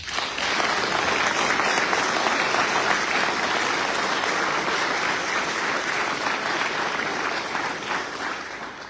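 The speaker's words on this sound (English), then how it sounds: "Give them a round of applause." Sustained applause from the audience at a United States Navy retirement ceremony, dense steady clapping that fills the room for several seconds before tapering slightly.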